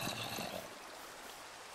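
Rain falls in Minecraft as a steady, soft hiss of game ambience, slightly louder at the start and then settling into an even, continuous wash with no speech.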